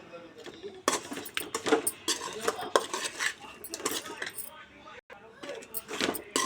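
Metal spoon stirring and scraping fish fry chutney in a pot, a steady run of clinks and scrapes close up, with a voice talking over it.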